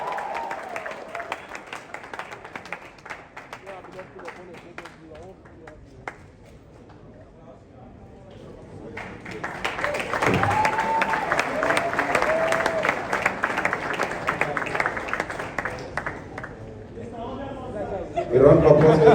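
Crowd at a large forex expo applauds and cheers for a speaker being introduced, a dense burst of clapping swelling midway and holding loud for several seconds, with chatter and voices through it.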